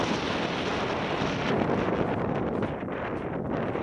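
Strong wind roars steadily into the microphone on a snowy walk from Hammershus to Hammerhavn on Bornholm, Denmark, a constant broadband buffeting with gusty fluctuations and no voices.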